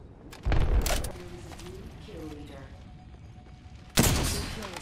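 Rapid automatic fire from a Flatline assault rifle in the video game Apex Legends: two loud, dense bursts, one near the start and one at the end, with quieter game sounds and a voice between them.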